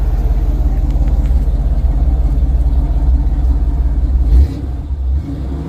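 A 1978 Chevy C10 squarebody with a newly rebuilt carburetor, already running after a first start in years, holds a loud, close, steady rumbling idle that drops off sharply near the end.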